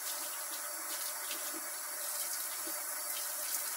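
Water from a small hose runs steadily over milking machine parts as they are rinsed, a constant close hiss and splash with no talk.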